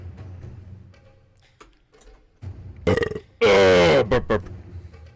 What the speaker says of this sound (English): Burp, burp.